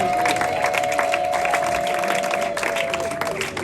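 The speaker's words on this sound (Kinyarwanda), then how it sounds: "Mufashe kwimana amashyi menshi." Wedding guests at a church and reception applaud together, dense sustained clapping with crowd murmur and a faint steady tone running beneath, fading a little toward the end.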